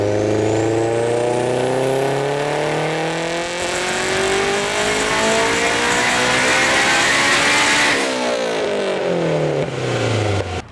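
A Honda Del Sol with a VTEC engine revs hard on a dyno, loud and close, its pitch climbing steadily through the gears before dropping briefly and climbing again, with no talking.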